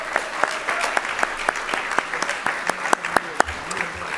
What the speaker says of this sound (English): a round of applause for our Lifetime Legacy awardee, Kwasi Mfume